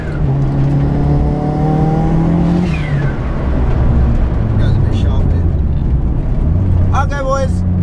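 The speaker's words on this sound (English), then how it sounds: "This is a very loud car with a very loud turbo noises" A loud, close engine of a tuned, fully forged 301 bhp Toyota Glanza revs, its pitch climbing and dropping, with whistling turbo sounds and voices talking over the roar.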